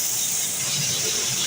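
Sliced onions sizzling in roughly 150 to 200 grams of hot cooking oil for mutton kofta biryani, a steady, close, bright hiss that holds evenly throughout with no talk over it.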